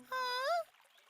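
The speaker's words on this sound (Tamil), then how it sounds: "அந்த பக்கம் தண்ணி ஊத்துற சத்தம் கேக்குது." Cartoon sound effect of water pouring, a short bright gurgling splash of about half a second that rises in pitch, fairly faint and heard alone.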